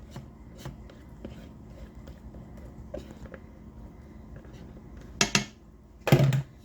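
A spoon scrapes and taps while stirring Tex-Mex sloppy joe mixture in an Instant Pot, with soft scattered clinks and then two louder metallic scrapes near the end.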